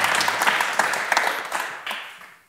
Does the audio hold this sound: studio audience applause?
yes